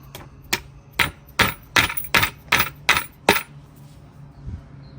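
Metal strikes ring out on a flagpole clamp during installation of the King Charles coronation flagpole, roughly nine sharp, evenly spaced clanging hits, mid-distance, ending in quiet.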